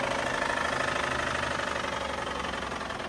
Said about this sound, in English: The engine broke. Unbelievable, guys. Look, you're gonna hear the noise right now.